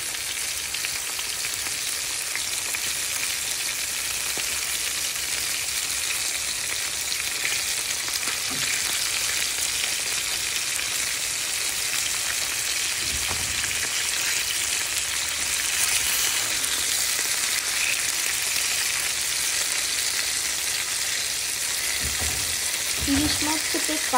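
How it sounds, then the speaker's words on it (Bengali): Hilsa fish pieces frying in hot oil in a pan give a constant, bright sizzle and crackle lasting throughout, close up, with occasional soft stirring knocks. "এই কিছুটা হালকা ভাজা করে আমি এটা উঠিয়ে রাখবো।"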